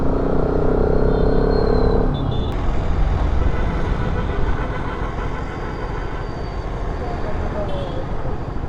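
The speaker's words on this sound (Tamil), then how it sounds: "எல்லா இடத்துலையுமே டிராஃபிக்காக தாங்க இருக்குது." Road traffic on a busy street heard from a motorcycle rider's position, a steady loud roar of engines and passing vehicles with a fading horn-like tone, continuous throughout.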